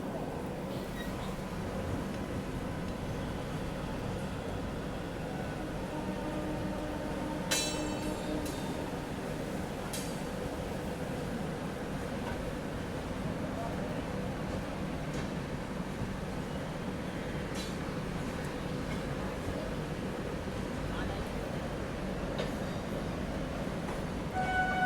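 The Mumbai Duronto express rolls slowly into New Delhi, a low continuous rumble of the moving train heard from inside, with occasional faint clanks and squeals over the steady drone.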